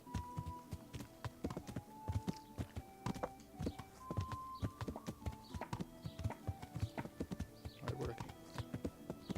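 Horses clip-clop at the stables in Kingdom Come: Deliverance, a steady run of close hoof knocks with a brief spoken line over them.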